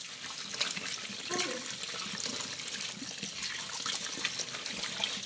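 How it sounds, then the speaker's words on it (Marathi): Fenugreek leaves being washed by hand under running tap water in a sink: a steady splashing, trickling flow with small bursts as the leaves are moved, close by. "पाण्याला भाजी धुवून घेते आणि करू मग मेथीची भाजी."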